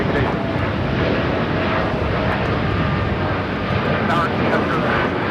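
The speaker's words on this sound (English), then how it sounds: "it's that Dreamliner flight heading to Newark" Boeing 787 Dreamliner jet at LAX airport, a steady, loud broadband engine roar that persists throughout while air traffic control radio talk plays over it.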